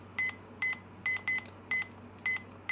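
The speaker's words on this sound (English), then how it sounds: "This beeping is driving me insane." Short, high electronic beeps repeat in a steady pattern, some in quick pairs, over a faint hum.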